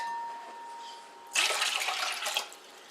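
Water for elderberry wine is poured out to be measured, a close splashing rush that starts abruptly and runs about a second before tapering off, following a low hum.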